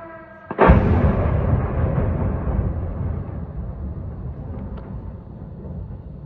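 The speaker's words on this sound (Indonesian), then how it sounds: "Kemudian ini adalah ledakan yang terjadi di bekas pabrik bernama Bolshevik Factory" A Geran-2 drone strike blast in Kyiv, at a former Soviet-era factory: one sudden heavy boom, followed by a long rumbling roar that slowly decays and stays loud and distant.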